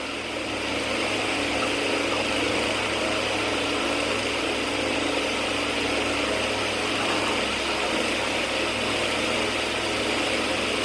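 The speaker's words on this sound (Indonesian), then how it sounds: "Apa mesin bego iku ya?" A steady, droning engine from a Daewoo truck idles continuously with a constant mechanical hum and vibration, close and unchanging, with no other sounds standing out.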